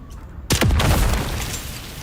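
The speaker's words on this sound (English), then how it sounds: "I wonder if those explode when you shoot them." A single sudden explosion bursts out in Dune Awakening after objects are shot, a loud close boom with a sharp onset and a descending rumbling tail that slowly fades.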